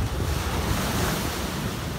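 Rough sea waves crash and surge steadily along the Caorle seafront the day after a storm, a loud, continuous roar of surf mixed with wind buffeting the microphone.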